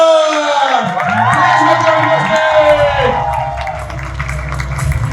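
A crowd at a corporate event cheers, whoops and applauds loudly as the company's CEO is called onstage, a dense, continuous roar with shouting voices and tonal sound running through it for the whole stretch.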